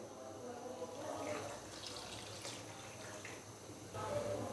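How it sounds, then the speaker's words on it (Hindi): Water pours steadily into a pot of chopped tomatoes while a chicken makhni karahi cooks, a continuous splashing trickle at close range that stays alone with no talk. "टमाटर डालने के बाद अभी मैं इसके अंदर पानी डालूंगा, तकरीबन 1 गिलास से थोड़ा सा कम।"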